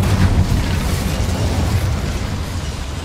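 Incendio fire spell cast in the Hogwarts Legacy video game, a loud sustained roaring burst with a deep low rumble that holds steady for about three seconds, with no talking over it.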